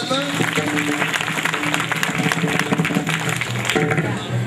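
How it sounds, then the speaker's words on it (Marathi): A crowd claps together at a devotional kirtan gathering, a dense, continuous patter of applause lasting throughout while a voice talks loudly over it. "त्या दोघांसाठी टाळ्या वाजवा."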